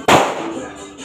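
A firecracker set off on New Year's bursts with one sharp, loud bang close by, followed by a fading ringing decay.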